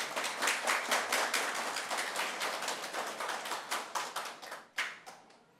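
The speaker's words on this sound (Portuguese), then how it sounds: "Vamos aplaudir o companheiro." A small audience at a special legislative session applauds a guest joining the panel, quiet and fairly sparse clapping with distinct individual claps, thinning out toward the close.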